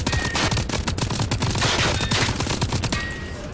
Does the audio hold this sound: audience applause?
no